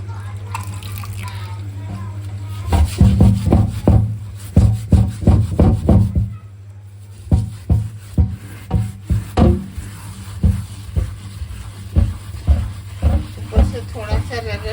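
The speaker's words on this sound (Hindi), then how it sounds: "थोड़ा सा रगड़ के साफ कर लेंगे ताकि मिट्टी का कोई भी जर्रा और लकड़ी का कोई भी जर्रा आम के साथ कट ना हो जाए" A wooden board for cutting raw mango is scrubbed by hand under running water, making rhythmic rubbing strokes in bursts over a steady stream, and someone talks alongside.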